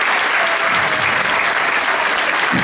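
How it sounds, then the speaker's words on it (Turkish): Audience at a middle school graduation ceremony in İzmir applauding the students, dense sustained clapping from a large crowd, loud and continuous throughout. "Bir kocaman alkış alayım tüm öğrencilerimize."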